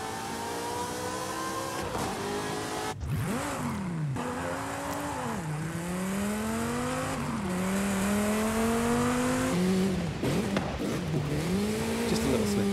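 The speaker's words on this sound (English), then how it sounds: "I love the sound of this GT." A high-revving GT sports car engine in Forza Horizon 5 climbs and drops through repeated gear shifts, loud and continuous, with racing-game engine tones throughout.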